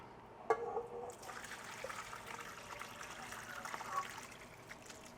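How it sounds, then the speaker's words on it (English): Homemade turkey stock poured into a colander, a steady soft trickle and splash of liquid lasting several seconds at close range with a brief clatter near the start. "we're going to go ahead and pour that into the colander"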